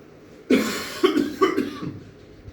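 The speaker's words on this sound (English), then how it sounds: "I'm sorry for the coughing." A conference presenter coughs three times in quick succession, close and fairly loud against a quiet room.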